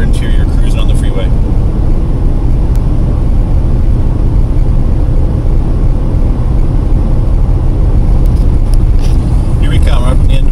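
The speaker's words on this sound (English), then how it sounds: "nice, quiet Pathfinder interior cruising on the freeway" Steady loud road and engine drone inside a V8 Nissan Pathfinder cruising on the freeway, a continuous low rumble with tyre hiss, and faint brief clicks near the start and end.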